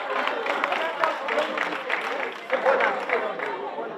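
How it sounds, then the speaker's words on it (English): Audience applause rises in a town-hall sensitization session of the ECOWAS Parliament's 5th Legislature, encouraging a young participant who placed second. The clapping is close and lively, swelling and dipping in waves for a few seconds. "Please encourage her with a round of applause again."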